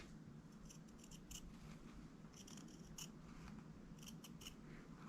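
Duckbill scissors trim charmeuse fabric close to zigzag stitching, producing quiet, close snips in small clustered bursts of three or four cuts with short pauses between. No one speaks.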